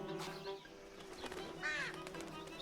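A crow flaps its wings in Shadow of the Tomb Raider, a brief burst of close wingbeats with a short bird call, no talk over it.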